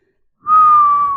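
A person whistles a single sustained, clear tone, starting abruptly and holding steady close to the listener, with no talking over it.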